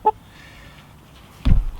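Young chickens about eight to nine weeks old give a short, sharp cluck near the start, then a louder burst of scratchy movement or flapping close by near the end, with quiet in between.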